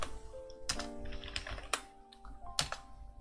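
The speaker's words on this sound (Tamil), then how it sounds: "டைப் அடிக்கலாம்" Keys tapped on a computer keyboard while working in MS Word, an uneven run of close, crisp clicks with short pauses and a few sharper strikes.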